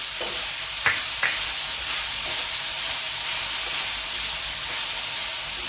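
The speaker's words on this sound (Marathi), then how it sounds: "पहा अगदी छान अशी शेंगी परतली जात आहे" Papdi beans sautéing in a pan with chilli powder, a constant broad sizzle close by, with a couple of sharp scrapes of a spoon early on and no talking.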